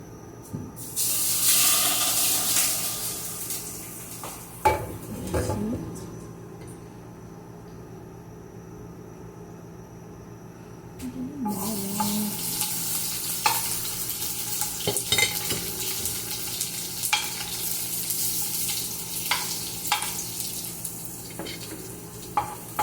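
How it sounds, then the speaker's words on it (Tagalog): Garlic toasting in a pan while being stirred, a broad steady sizzle with clinking stirs and scrapes, loudest early, easing briefly, then resuming with scattered knocks against the pan. "Toasted na natin ang bawang"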